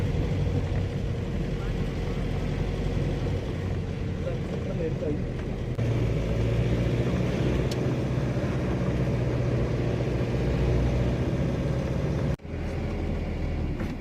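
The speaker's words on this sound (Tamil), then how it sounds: "ஷிம்லா என்ட்ரன்ஸில் இருக்கிற டிராஃபிக்கை பாருங்கள், இங்கேருந்தே ஆரம்பிச்சிருச்சு" A traffic jam at the Shimla entrance gives a steady low engine and road rumble that continues for the whole stretch, with a voice talking over it.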